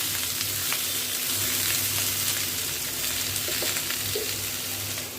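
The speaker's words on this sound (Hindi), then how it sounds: "इसे 5 मिनट और भून लेते हैं" Pumpkin pieces fry in a pan for a meal cooked without garlic or onion, giving a steady close sizzle with occasional stirring scrapes and a low hum beneath, no talking.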